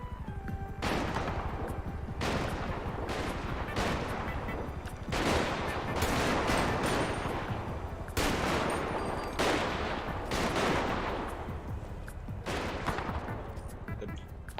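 Rapid bursts of automatic gunfire in the GTA V video game, with repeated volleys of loud, sharp shots crackling almost continuously, each burst trailing off before the next.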